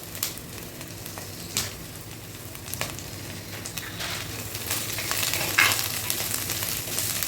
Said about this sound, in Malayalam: ഇതിലേക്ക് കുറച്ച് വേപ്പല, കറിവേപ്പല ഇട്ടു.